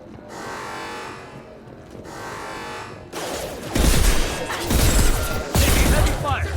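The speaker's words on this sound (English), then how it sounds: "Heavy fire!" Mass Effect 2 combat in which heavy gunfire erupts partway through as loud bursts and impacts, following a quieter rumbling stretch, with voices calling out in the mix.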